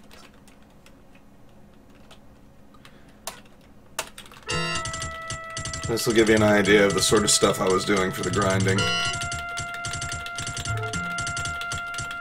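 Commands for Quest For Glory I on PC are typed on a computer keyboard, giving a quick run of clicky keystrokes that starts after a voice and continues under loud game music.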